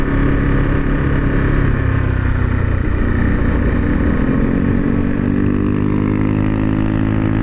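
A 2021 Ducati Monster 950 Plus downshifting under engine braking: loud, close engine drone with falling then rising revs through gear changes, steady and continuous, no talk.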